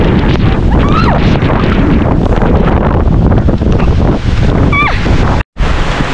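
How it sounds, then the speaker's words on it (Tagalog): Typhoon wind and heavy rain roar at a coastal cottage, loud constant buffeting of the microphone with a brief dropout near the end and faint high squeals over the storm. "Sobrang lakas ng hangin. Saka ng ulan."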